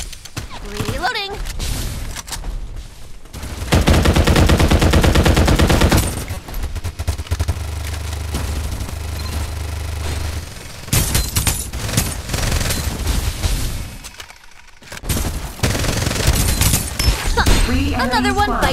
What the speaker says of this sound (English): Gotta keep up the firepower. Open fire!